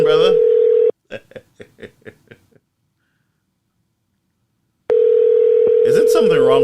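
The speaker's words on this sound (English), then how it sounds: "Answer the phone, brother." A loud, steady telephone dial tone plays during a live broadcast news report from Saint Lucia, breaks off for a short run of rhythmic clicks and silence, then returns just as loud.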